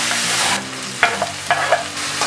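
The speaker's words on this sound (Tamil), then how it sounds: "நல்லா ஃப்ரை பண்ணிக்கோங்க. வெஜிடபிள்ஸ்லாம் நல்லா வதங்கணும்." Tomatoes, onions and vegetables frying in a pan, a close sizzle with a few sharp stirring scrapes and clatters in the second half, no speech.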